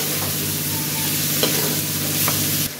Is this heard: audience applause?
no